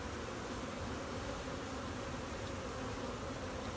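Dense, steady buzzing of honey bees on a hive frame, close and continuous throughout, with no talking.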